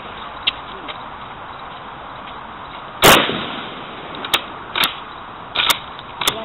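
A 1930 Tula M91 Dragoon Mosin Nagant bolt-action rifle fired outdoors, with one sharp, loud report midway, then several short metallic clacks over a faint background hiss.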